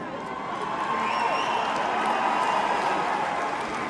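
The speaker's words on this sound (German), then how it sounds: "Ich find's toll, dass ihr klatscht" Concert audience at a live show in 2024 claps and cheers as a dense, continuous wash of applause and crowd noise, loud and steady throughout.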